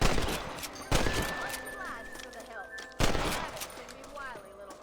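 Gunfire in Red Dead Redemption on PS4 as a player shoots at rabbits: two loud, close shots about two seconds apart, each followed by a ringing, echoing tail, over game sound with voices.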